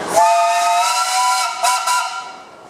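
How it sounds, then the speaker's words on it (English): At a parade, a steam engine whistle gives one long, loud, steady blast with a breathy hiss, close by and alone, tapering off at the end. "Any whistles, Jack?"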